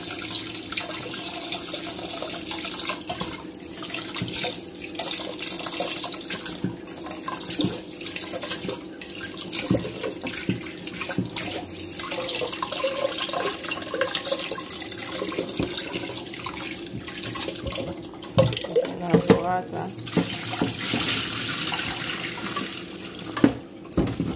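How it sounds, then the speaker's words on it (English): Food rinsed under a running kitchen tap: a steady rush of water hitting the sink for over twenty seconds, with splashes and clatters as items are turned and washed, close by and without any voices. "I wash them. Rinse off this and wash it off."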